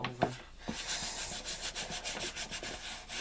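Hands rub and smooth material over a crafted altered house, a soft close scratchy rasp repeating in quick strokes, with a brief knock at the start.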